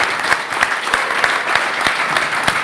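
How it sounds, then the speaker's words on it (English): A round of applause for panel speakers at an expert discussion, dense clapping with a loose rhythmic pulse from a few close hands, continuous and fairly loud. "Please, big round of applause for them."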